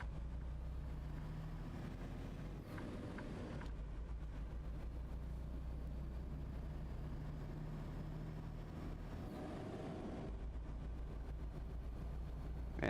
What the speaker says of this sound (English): Man, this truck sounds so real.